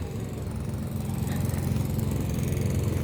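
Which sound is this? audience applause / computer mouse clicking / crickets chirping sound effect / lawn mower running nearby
lawn mower running nearby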